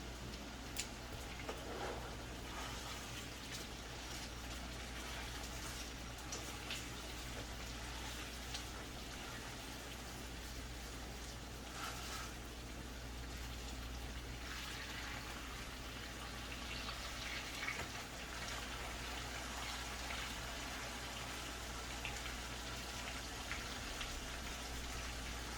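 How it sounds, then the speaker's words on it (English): Food cooking on a stove late at night, a steady soft bubbling and sizzling that holds at an even, fairly quiet level throughout with faint scattered pops. "Letting it cook."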